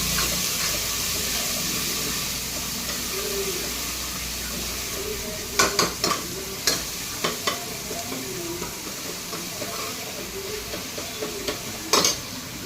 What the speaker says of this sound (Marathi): आता कांदा चांगला परतून घेऊया आपण